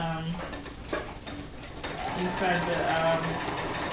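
A sewing machine free-motion quilting in a meander pattern along stitch-in-the-ditch lines, a steady mechanical whir running through the whole stretch, loud and close, with a person talking over it.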